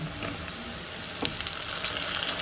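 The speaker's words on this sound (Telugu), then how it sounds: "ముక్కలు చేసి పెట్టుకున్న పొట్లకాయలు ముక్కల్ని అయితే వేద్దాం." Chopped ridge gourd pieces hit hot oil with a continuous close sizzle and crackle, plus a few small clinks and stirring sounds over about two seconds.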